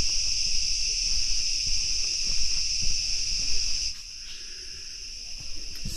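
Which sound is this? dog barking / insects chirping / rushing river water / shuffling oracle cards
insects chirping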